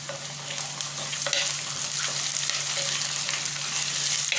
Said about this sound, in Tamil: இதெல்லாம் நிறம் மாற வரைக்கும் வறுத்துட்ருக்கணும்